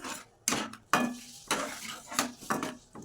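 A metal spatula knocks and scrapes around a pan about six times in an uneven rhythm as turmeric and chili powder are stirred in for a guru fish curry; close, crisp clinks with no talking.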